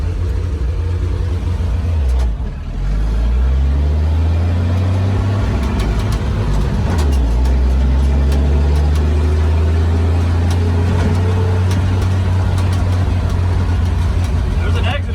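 Steady low engine drone and road rumble inside the cab of a 70-year-old farm truck on the highway, loud and continuous with a couple of gear-change dips; a voice talks over it.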